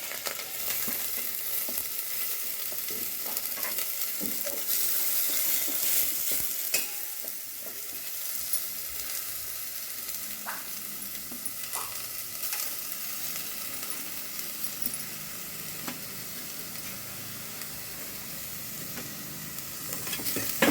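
Ginger-garlic paste and onions with cumin and chilli sautéing in a pan for kulith (horse gram) soup, a steady close sizzle with intermittent scraping stirs and clinks, no voices.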